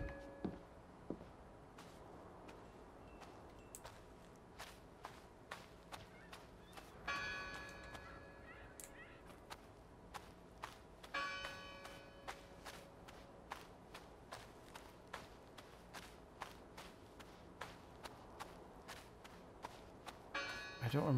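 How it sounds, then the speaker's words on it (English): A bell-tower bell tolls repeatedly in the Draugen video game, its strokes ringing moderately loud over a steady ambient bed, with footstep-like clicks throughout and a few brighter, sustained ringing swells. "Let's get to that bell before it stops"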